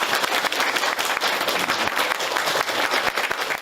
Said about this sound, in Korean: 대통령으로서 여러분께 감사 박수 합니다.